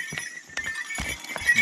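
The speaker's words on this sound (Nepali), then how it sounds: "घोडा घोडा" Horse hooves clip-clop along a mountain trail in Nepal's Everest region, a few irregular, fairly close knocks over steady outdoor background noise.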